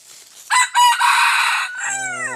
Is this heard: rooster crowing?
yes